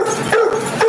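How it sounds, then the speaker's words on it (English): A dog barking excitedly, a few quick, loud, close barks and yips in under a second. "That's Blue Boy, barking up a storm."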